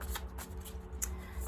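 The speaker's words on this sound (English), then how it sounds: "Let's give these a good shuffle again." A deck of oracle cards is shuffled by hand in short, crisp riffling bursts close to the microphone, with soft flicks and taps between them and no talking.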